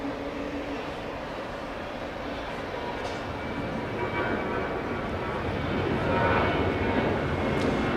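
A Philippine Airlines airliner at Los Angeles International Airport produces a steady broad jet roar that swells slightly toward the end, heard from a distance without talk.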